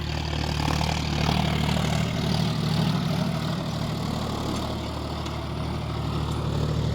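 A tractor engine runs in high second gear while working a potato field, giving a steady, deep, continuous drone at close range with no voices.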